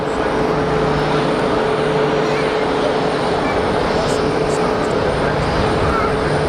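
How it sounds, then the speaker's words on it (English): A loud, constant low roar of aircraft engines at Geneva Airport, with a broad rushing drone and a faint steady tonal whine holding throughout, while a voice speaks intermittently underneath. "You're watching Fast as Funk live from Geneva Airport."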